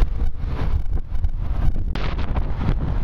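Strong wind buffets the microphone while a rider pedals a Desna-2 bicycle against a headwind on a spring road outside Moscow, a constant loud roaring rush with gusty swells and no speech.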